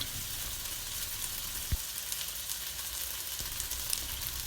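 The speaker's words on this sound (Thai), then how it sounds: "หลังจากนั้นเราก็จะใส่ วุ้นเส้น ลงไปค่ะ" Glass noodles drop into egg frying in a pan for stir-fried noodles with pork and egg, bringing a dull thump over a loud, continuous hissing sizzle that carries on steadily, with no talking.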